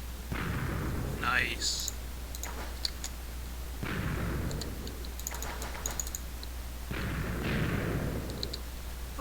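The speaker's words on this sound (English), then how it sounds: "So that's sticky dynamite." Three booming blasts of sticky dynamite going off in Minecraft, spaced a few seconds apart, each a deep burst with a crackling tail, under steady low hum, clicking keys and a brief spoken remark.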